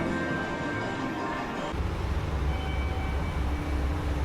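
A Naruto Line train rumbles at Tokushima station, a low steady rolling and engine drone that grows heavier midway, heard at moderate distance without speech.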